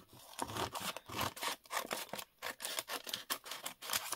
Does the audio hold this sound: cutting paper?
yes